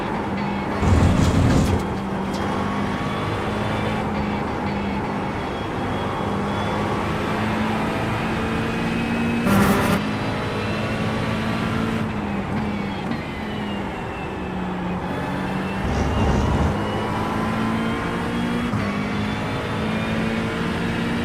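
A Ferrari driving with its tires warmed up gives a steady, close engine drone with sustained tonal harmonics, swelling louder in a few brief surges over the roughly twenty-second run.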